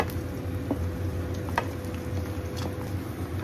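Mustard oil heating in a pan and starting to foam, giving a steady low crackling sizzle with a few faint stirring clicks, close by and continuous.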